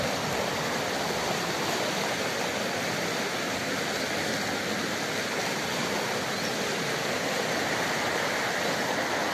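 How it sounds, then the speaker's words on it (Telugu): A rain-swollen stream, the Madenahalli vagu, rushes steadily, a dense unbroken roar of flowing water that stays loud and even throughout with no voices. "ఈ వంక వాగు చాలా బాగుంది ఫ్రెండ్స్."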